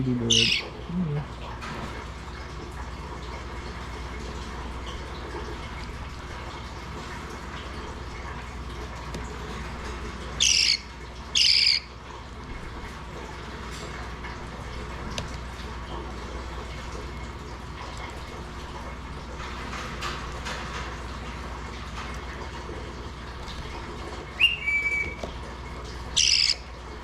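Hand-fed baby Indian ringneck parrots give short, sharp squawks in a few separate bursts over a quiet indoor background, with long pauses between the calls.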